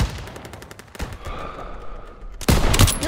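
In-game battle gunfire from Call of Duty WW2, with rapid machine-gun bursts and scattered shots crackling close and loud, then a heavy volley near the end.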